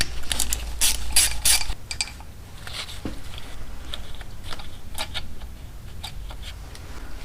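A ratchet wrench loosens an 8mm bolt on a 1984 Honda Shadow 500 engine, a burst of loud rapid clicking followed by slower, lighter ratchet ticks, close with no talk.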